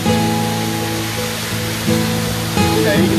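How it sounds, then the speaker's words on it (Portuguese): Tall waterfall at Sete Quedas in São Paulo, a loud, steady roar of falling water that fills the whole clip, with some faint tonal hum running beneath it. "Chegamos aqui na cachoeira mais alta"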